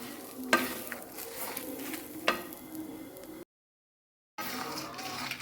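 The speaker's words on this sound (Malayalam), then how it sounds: "നമ്മൾ തേങ്ങ വറുത്തത് നല്ലതായിട്ട് വന്നിട്ടുണ്ട്" Grated coconut is stirred and roasted in a pan, giving a soft dry sizzle with scraping spoon strokes and two sharper clinks against the pan, broken by a brief silence before the sizzling resumes.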